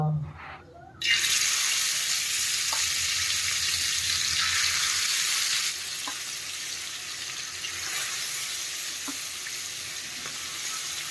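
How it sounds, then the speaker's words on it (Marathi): Grey mullet (boi fish) going onto a hot tawa sets off a loud, sudden sizzle that holds steady and close, easing slightly partway through, with faint clinks underneath. "तवा मस्त गरम झालेला आहे आपला. आता एक एक एक एक बोई मासा टाकूया."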